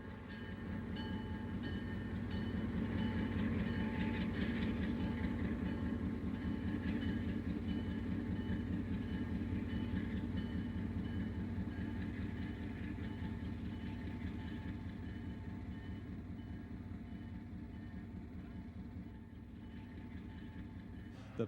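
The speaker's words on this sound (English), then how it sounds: "The road power moves back to the engine terminal for servicing." Diesel locomotive road power at Fort Street Union Depot in Detroit rumbling as it moves back to the engine terminal, a steady low throbbing engine drone with rhythmic wheel clatter, fairly close and gradually easing.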